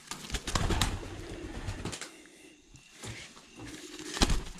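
Young racing pigeons in a loft coo softly while being moved, with scattered shuffling, rustling and a brief flutter of wings over several seconds.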